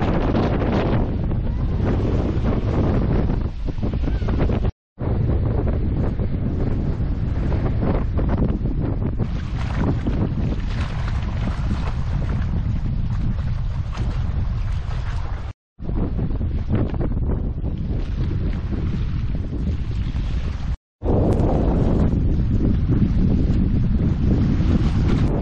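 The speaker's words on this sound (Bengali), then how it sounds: "সাইক্লোন রেমালের মধ্যে ঝড়ো বাতাসে ভাসতে ভাসতে আর বৃষ্টিতে ভিজতে ভিজতে" Stormy Cyclone Remal wind batters a boat near Khulna, Bangladesh, a loud, constant roar of gusts and rushing water over the microphone, broken by a few abrupt silent gaps.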